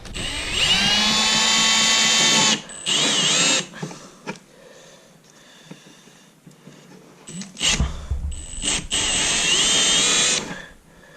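Power drill whining in two long bursts with a break between, drilling a 2024 Polaris Ranger XP 1000 during rock guard installation, loud and close, with rattling and handling sounds during the pause.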